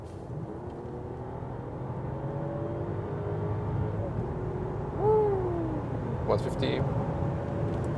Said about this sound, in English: let's have one more acceleration in the sports mode from 90 kilometers an hour when we're already at speed